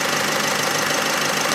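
A 2016 Opel Insignia facelift with the 1.6 engine of 136 horsepower, a loud, steady engine hum with a rough, even texture, heard close for a brief moment with no talk.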